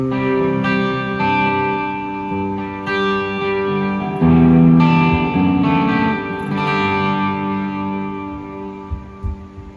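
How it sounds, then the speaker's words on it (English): Electric guitar chords through an Orange Micro Dark amp with pedals ring out with a spacious stereo delay and lush reverb, notes trailing and echoing into a shimmering wash. "I'm going to give you my worship settings, which is a stereo delay and an octo reverb"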